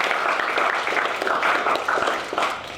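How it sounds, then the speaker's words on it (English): A room of people at a footy club event applauds a newly appointed senior coach, steady clapping sustained at moderate volume with no talk over it. "So if we could give Ryan a round of applause."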